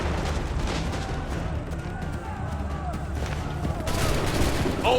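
Musket volleys crack in the Assassin's Creed III video game, a dense fusillade of gunfire rumbling under shouted orders, with a louder burst near the end.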